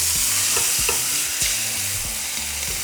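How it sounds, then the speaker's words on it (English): Birria meat sears in hot oil in a frying pan, a loud, continuous hiss and sizzle with a few brief knocks of the pan, close up and with no talk. "once our oil is hot, we're going to place our meat on the pan."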